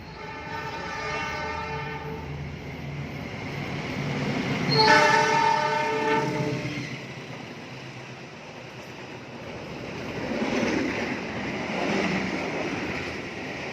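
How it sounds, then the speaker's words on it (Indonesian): The Jayabaya passenger train, running from Malang to Pasar Senen, speeds straight through Waru station in Indonesia. A rumbling approach builds into one loud sustained horn blast, followed by the roar and clatter of the carriages rushing past. "kereta api Jayabaya telah melintas langsung stasiun Waru"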